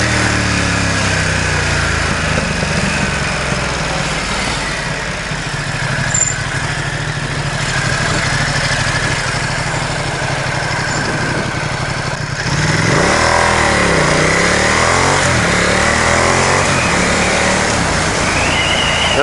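A Ducati XDiavel S motorcycle engine drones loud and close while the bike is ridden through its gears, its pitch rising and falling with a clear shift change around the middle and no talking.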